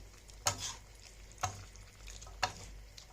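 Beef igado with bell pepper and green beans being stirred in a frying pan, three distinct scraping clanks about a second apart over a low, quiet sizzle.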